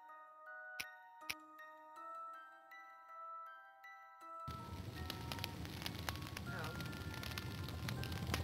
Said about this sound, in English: The fire needs more wood.